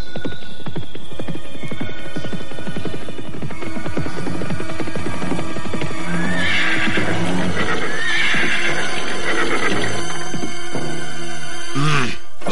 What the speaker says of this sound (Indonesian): 2 orang penunggang kuda menuju kemari.